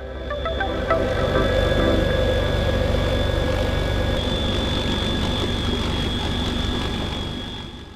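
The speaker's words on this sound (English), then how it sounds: "King Stallion is the latest version of the heavy transport helicopter." CH-53K King Stallion heavy transport helicopter of the US Marine Corps, a loud, close, steady rotor and turbine roar with a whining tone, swelling in the first second and holding strong throughout.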